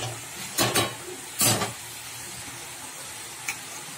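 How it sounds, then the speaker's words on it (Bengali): Chopped bottle gourd stirred in a wok, with two short bursts of sizzling scrape early and another around the middle, then a faint steady fry hiss and one small clink near the end. "লাউটা দিয়ে দিয়েছি কড়াতে, দিয়ে ভালো করে নেড়ে চেড়ে নেবো"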